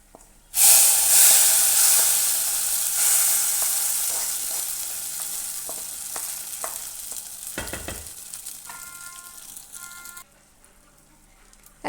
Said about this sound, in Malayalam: ഇനി ഇതിലേക്ക് നമുക്ക് തേങ്ങ വറുത്തത് കൂടെ ഒന്ന് ചേർത്ത് കൊടുക്കാം.